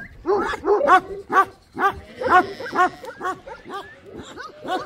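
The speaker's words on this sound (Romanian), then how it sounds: "Uitați câinii acolo, oameni buni" Several sheepdogs barking in quick, overlapping bursts nearby at a mountaintop sheepfold, with some higher yips mixed in.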